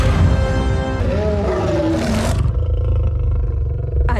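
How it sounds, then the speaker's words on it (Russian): A lion roars loudly and close in a film scene, a long throaty roar that fades into a lower rumbling growl. "У них же лев."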